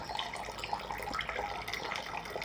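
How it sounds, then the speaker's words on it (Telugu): Waste water draining away during homemade coconut oil making, a steady close trickle and splash of liquid running down, with no voices. "ఈ వాటర్ అంతా కింద దిగిపోతుంది."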